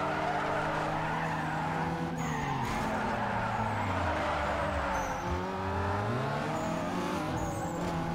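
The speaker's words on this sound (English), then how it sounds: "The car also sounds different now because of that engine upgrade." Upgraded car engine in Need for Speed Underground 2, a steady loud revving drone with pitch sweeping up and down through gear changes, tire skids and squeals mixed in, racing through an airport.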